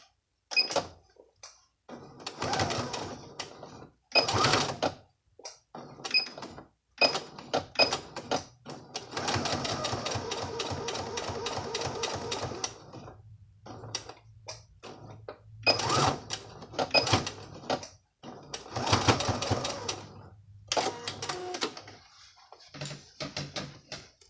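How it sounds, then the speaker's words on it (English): Sewing machine backstitching through layered waistband fabric in short bursts and one longer run, stopping and starting with clicks and handling noises between the stitching runs. "I'm going to backstitch at beginning, backstitch at the end. This is to close the end of the waistband with no extension."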